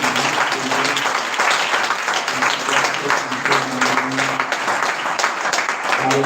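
Church congregation clapping hands together during a worship service, a dense sustained wash of many hands lasting several seconds at steady loudness, with voices mixed in under the applause.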